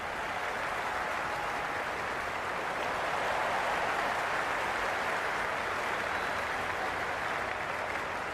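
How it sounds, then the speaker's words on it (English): A packed stadium crowd at an IPL cricket match, Chennai Super Kings versus Mumbai Indians in 2018, keeps up a steady, dense roar of cheering and applause that fills the whole stretch without a break. "The crowd is electric right now."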